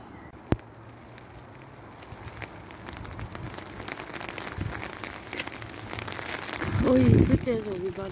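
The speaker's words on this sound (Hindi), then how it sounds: "बारिश हो रही है देखो" Steady rain falls outdoors on a rainy day, a continuous hiss that grows heavier toward the end. People talk faintly underneath the rain.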